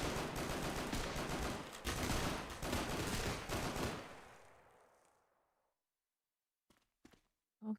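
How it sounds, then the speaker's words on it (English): Gunfire in a video game: a dense, loud burst of rapid shots for about four seconds that rings out and fades to near silence, followed by a few isolated faint shots and a final sharp one. "Why are you shooting the witch?"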